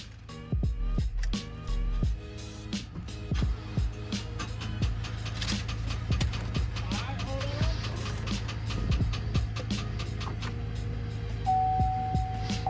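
Salvage Chevrolet Tahoe, a totaled rollover, cranks and fires up amid a steady low engine drone, with clicks and cabin rattles scattered over it; close and moderately loud, and a voice is briefly heard.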